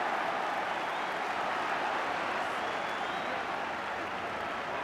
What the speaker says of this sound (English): The last cheer you heard was because Kenny Dalglish made the first of what may be a number of warm-up runs along the touchline